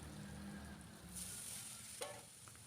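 Dry noodles tossed into a hot pan with bird's eye chilies, salt and seasoning give a steady, close sizzle with stirring, continuous and fairly loud throughout, with no talking.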